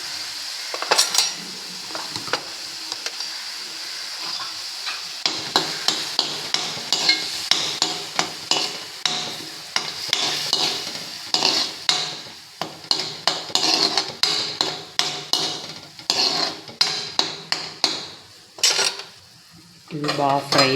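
Spices and masala paste frying in oil in a pan while being stirred, with repeated sharp clinks and scrapes of a utensil against the pan over a steady sizzle, close up and without talk.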